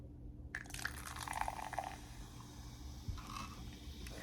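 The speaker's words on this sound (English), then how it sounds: "I'm going to pour it in." Coca-Cola Spiced pours from a can into a glass with a soft, steady liquid gurgle and fizz, quiet and close, with a few faint clinks along the way.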